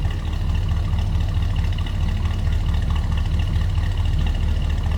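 A 1964 Ford Galaxie 500 XL fastback, an original LA-built California car, idles steadily with a deep, continuous low rumble, close and alone, with no voices over it.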